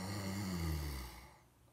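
A single long, rough inhale through the nose with a snoring rattle, close and steady, fading out toward the end, during bumble bee breath (Bhramari) breathing practice.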